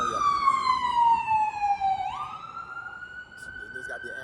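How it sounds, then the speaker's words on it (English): An ambulance siren wails close by, a sustained rising and falling electronic tone that shifts pitch as it passes, loud and alone over faint street background. "There's got to be an ambulance somewhere around here."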